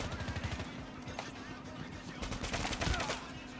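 Rapid game gunfire from a Call of Duty Mobile battle royale match, dense bursts of shots crackling throughout with talk layered underneath.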